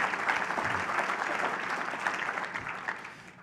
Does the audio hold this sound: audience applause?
yes